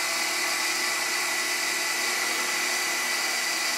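A Dyna DM3000 mill spindle spins at 1500 RPM with an untrued chuck, giving a steady, continuous high-pitched whine with a broad hiss that stays level throughout, with no talking.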